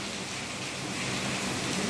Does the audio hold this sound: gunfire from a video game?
no